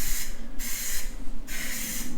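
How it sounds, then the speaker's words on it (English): Spray paint going onto a car's rear bumper, a JDM part for a Nissan Skyline V35 / Infiniti G37, heard as three close, loud hissing bursts separated by short pauses. "See how I'm painting it? Extra careful."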